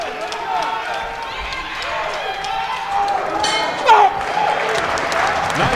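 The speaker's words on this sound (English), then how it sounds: "And the crowd's into it." Arena crowd at a women's boxing bout at West Point, New York, a broad roar of cheering and clapping at moderate distance, swelling briefly, under a commentator talking.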